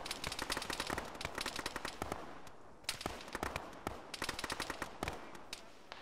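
Rapid gunfire in the Arma video game during a ShackTac squad session, dense bursts of rifle shots in quick irregular volleys across the whole stretch, moderately near with fast crackling reports and brief gaps between strings.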